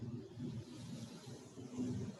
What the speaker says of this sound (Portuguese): Espera que está passando um carro aqui na frente.